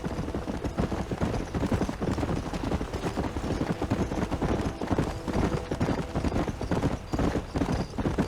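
Horse hooves gallop in a rapid, continuous clip-clop rhythm in the western game Red Dead Redemption, loud and close throughout over a dense background mix.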